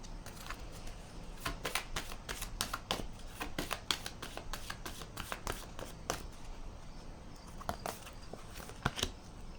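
Tarot cards shuffled and drawn close up, a continuous papery flutter and riffle with quick snapping taps scattered throughout, fairly quiet with no voices.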